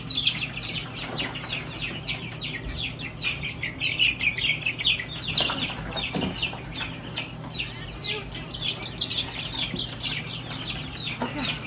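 Chickens cluck continuously at moderate volume, a busy run of short overlapping clucks over a low background hum.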